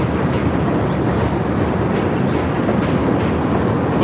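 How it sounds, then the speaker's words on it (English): A train rolls past close by, a loud, steady broadband rumble with faint clickety-clack from the wheels, filling the whole moment without pause. "Or wait for the train to go."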